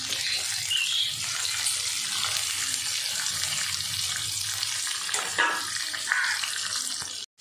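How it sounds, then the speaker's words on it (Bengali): Fish fries in oil in a home kitchen, a steady close hiss and sizzle running continuously with a few brief crackles before it stops abruptly. "আমার মাছ ভাজা হয়ে গেছে, এবার আমি মাছ ভাজাগুলো তুলে নেব"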